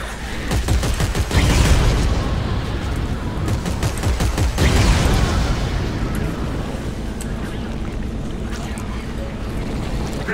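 Rapid bursts of video game gunfire hit reactor heat sinks, dense clattering volleys peaking twice over a constant roaring rumble, with a voice speaking briefly among the shots.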